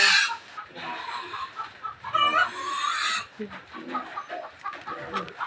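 Chickens cluck nearby in short, busy bursts, with a brief louder squawk partway through and a faint voice underneath.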